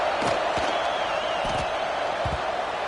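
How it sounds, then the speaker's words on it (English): A football stadium crowd at a West Virginia game buzzes steadily after a score, a constant wide roar of many voices with a few louder shouts and thumps rising out of it, close and continuous. "And this crowd is buzzing after that last score."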